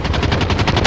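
Rapid automatic gunfire in a video game shootout, a dense burst of about eight evenly spaced loud shots crackling close by without any voice.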